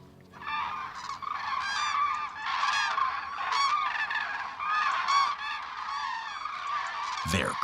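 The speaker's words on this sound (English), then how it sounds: "They're cranes." Common cranes arriving in flocks from Scandinavia over a Spanish olive grove, a dense chorus of loud trumpeting calls overlapping continuously, carrying clearly with no talk.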